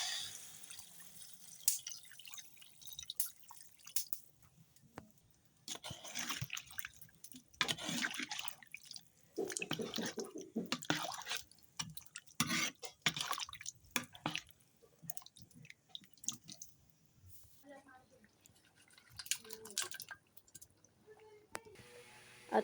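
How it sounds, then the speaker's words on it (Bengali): Water pours and splashes into a cooking pot in uneven, close bursts with drips and sloshes, then stops. "এবার পরিমাণ মতো জল অ্যাড করতে হবে।"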